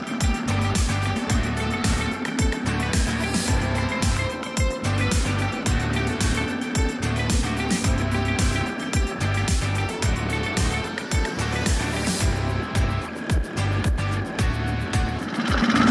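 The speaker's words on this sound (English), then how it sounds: "Engine sounds good." A 49cc four-stroke engine on a motorized mountain bicycle idles after a valve adjustment, with a rapid, steady putter and regular thumping pulses, close and fairly loud.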